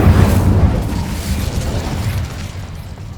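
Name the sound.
Incendio spell blast in Hogwarts video game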